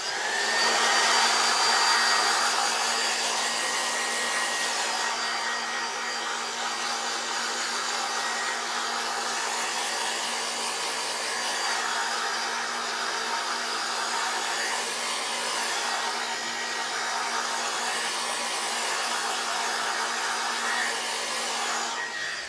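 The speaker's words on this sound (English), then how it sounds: "then I'm going to shoot it with the blow dryer again, so we can get that dry" A blow dryer drying paint on a canvas, a steady close whooshing roar that runs unbroken and fairly loud for the whole stretch, with no talk.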